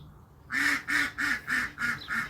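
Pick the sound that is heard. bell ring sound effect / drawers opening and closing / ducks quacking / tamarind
ducks quacking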